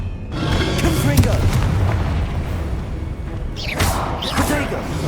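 Blasting spell explosion in Hogwarts Legacy, a heavy boom with rumbling debris that fills most of the stretch, followed by a second sharper burst near the end.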